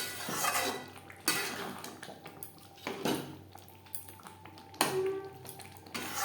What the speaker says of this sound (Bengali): গ্রেভির সাথে ভাজা মশলা বেশ ভালো করে মিক্সড করে দেবো